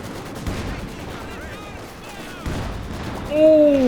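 Anti-tank guns fire in the Company of Heroes 2 video game, their booms and battle noise mixing with whistling shells and other gunfire, under a commentator's steady talk.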